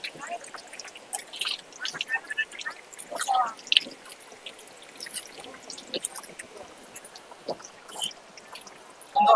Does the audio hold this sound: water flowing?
yes